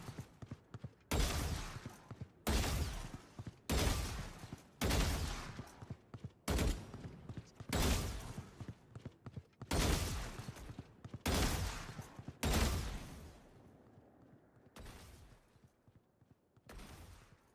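Gunfire in a tactical shooter, repeated single and double shots fired during aggressive strafing peeks, loud broadband cracks in a steady rhythm about once every second, with no voices.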